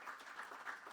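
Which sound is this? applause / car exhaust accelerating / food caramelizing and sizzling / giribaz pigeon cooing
applause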